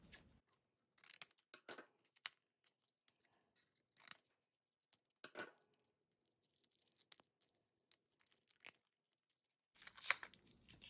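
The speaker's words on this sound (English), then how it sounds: "so we'll have to cut this open" Shrink wrap on a SanDisk Ultra 256GB SD card package is cut open with scattered, quiet plastic crinkles and snips, coming in short irregular bursts with brief silences between them.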